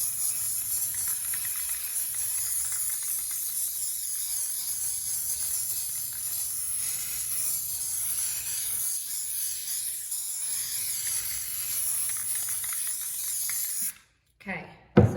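Clear matte top coat hisses steadily from a spray can over an acrylic pour piece, one long continuous spray with brief dips, ending in a short pause and a final burst near the end; a voice is heard faintly.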